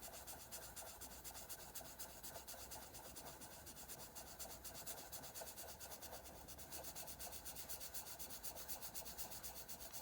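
Pencil shading on paper gives a soft, continuous scratchy rubbing, quiet and close, with even back-and-forth strokes throughout and no talking.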